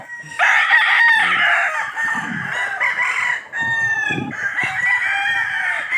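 Several roosters, fighting cocks, crow loudly and close by on a farm, their calls overlapping one after another, with some clucking underneath.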